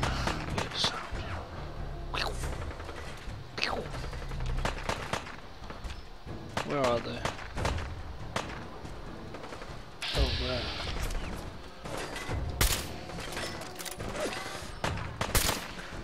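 Gunfire in Fallout 4, with repeated sharp shots and bursts scattered across a busy combat scene, mixed with clanks and impacts while someone talks over the action.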